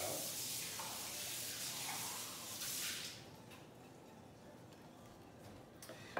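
Running water rinses out a cocktail shaker with a close, steady spraying hiss for about three seconds, then drops to a softer trickle.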